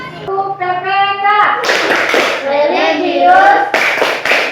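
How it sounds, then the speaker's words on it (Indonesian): A class of children does the Tepuk PPK clapping routine, giving loud group hand claps in bursts. The children chant along with the claps, close and energetic. "Mari kita tepuk PPK terlebih dahulu ya."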